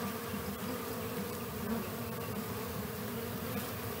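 Honeybees crowd around a cheap homemade bee feeder, giving a steady, dense, close buzzing drone that carries on without a break and with no voices.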